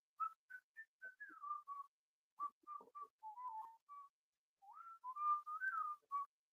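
Clear melodic whistling in short phrases with brief pauses, bright and fairly close, from a whistling instrument in Benga music, with no voices.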